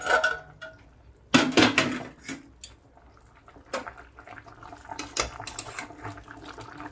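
Spoon scraping and clattering in a pan while jackfruit and potato curry is stirred, a sharp cluster of metallic knocks followed by softer intermittent scrapes and light sizzle, close and moderate.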